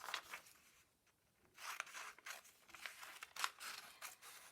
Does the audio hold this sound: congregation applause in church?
no